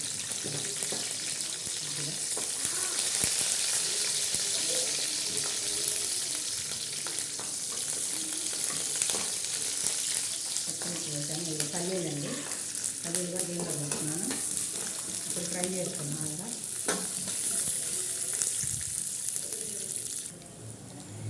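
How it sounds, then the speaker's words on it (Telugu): Green chillies fry in oil in a pan, giving a steady sizzle with stirring and scraping sounds, while a person talks briefly over it. "ఆయిల్ వేసుకుని పచ్చిమిర్చి ఒక ఐదు వేసానండి పచ్చిమిర్చిలు ఫ్రై చేసుకున్నాం"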